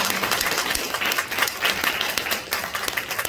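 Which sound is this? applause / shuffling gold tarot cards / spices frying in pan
applause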